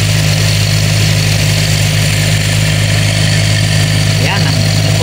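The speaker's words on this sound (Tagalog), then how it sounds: "Ayan, cold start siya." A car engine idles steadily after a fully automatic cold start, with a constant low hum at an elevated idle and a brief faint squeak near the end, close and loud.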